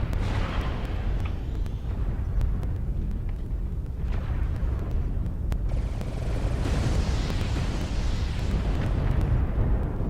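Artillery strike explosions land in MechWarrior Online, a dense, continuous barrage of booming blasts and rumbling impacts filling about ten seconds at steady loud level with no pause.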